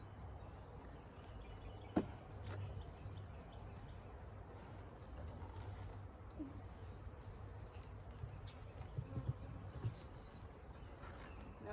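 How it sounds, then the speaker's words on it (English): Honey bees buzz faintly around a hive box at evening during a colony move, a soft, steady insect hum with a few scattered clicks and rustles nearby, quiet and without voices. "All the bees are out of the box that's on the ground."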